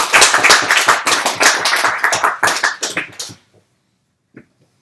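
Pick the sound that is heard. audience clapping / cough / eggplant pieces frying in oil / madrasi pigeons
audience clapping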